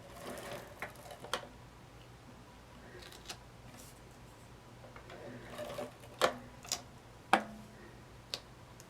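A Scotch ATG adhesive tape gun trigger clicks several times, sharp faint snaps with pauses between them and quiet rustling in between, sounding alone.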